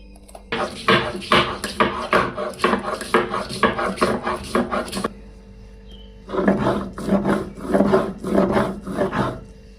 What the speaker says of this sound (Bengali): আমি শিলি মশলা করব।